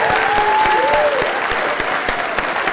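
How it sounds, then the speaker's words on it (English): Audience at a lecture series gives a sustained round of applause, steady dense clapping with a faint voice or whistle threading through early on, lingering at an even level. "Can we give him a round of applause?"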